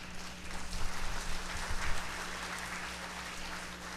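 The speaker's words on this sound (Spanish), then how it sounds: "Recibamos con un fuerte aplauso a Liliana, por favor." A seated audience at an annual public-sector directors' meeting applauds a panelist with soft, steady clapping that stays fairly distant and quiet, a low hum running beneath it.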